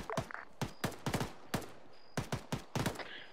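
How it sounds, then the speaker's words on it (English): A friendly machine gun platoon fires in Arma 3, sharp short bursts of two to four shots repeating at irregular intervals, moderately distant with echoing tails and no talk over them. "Friendly machine gun platoon supports you from your northeast."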